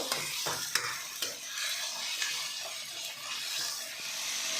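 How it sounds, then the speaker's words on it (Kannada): Ginger garlic paste fries in a pan with a continuous bright sizzle, while a spatula stirs and scrapes against the pan with a few sharp taps, close and steady throughout. "ಶುಂಠಿ ಬೆಳ್ಳುಳ್ಳಿ ಪೇಸ್ಟಲ್ಲಿ ಸ್ವಲ್ಪ ಹಸಿ ಹಸಿನೆಲ್ಲ ಅಂತ ಚೆನ್ನಾಗಿ ಫ್ರೈ ಮಾಡ್ಕೊಳ್ಳೋಣ"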